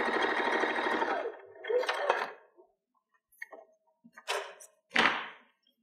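A sewing machine stitches a fabric face mask with a steady, fast mechanical whir that stops after about a second, followed by brief bursts of running and scattered clicks and handling sounds, close by.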